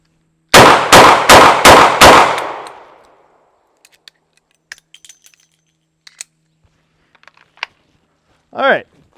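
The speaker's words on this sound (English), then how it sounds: "only 5 shots this time" Five rapid, loud shots from a small concealed-carry handgun fired at close range in quick, even succession, followed by quieter scattered clicks, small metallic clinks and a brief whistling tone.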